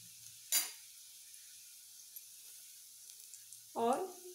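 Green chilies and red chili powder frying in a pan give two short, bright hissing sizzle bursts, one early and one near the end, with quiet stirring between and no talk.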